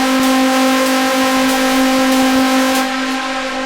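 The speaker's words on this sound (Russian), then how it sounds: "весь такой эффект разгона нужно повторять его на каких-то плакообразных звуках" Synthesized acceleration riser built in FL Studio, a loud sustained buzzy tone with stacked harmonics and faint periodic pulses, holding steady before easing off at the end.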